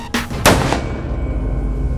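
A single .308 caliber rifle shot fires with a sharp, loud crack, then a reverberating rumble fades over the next second and a half.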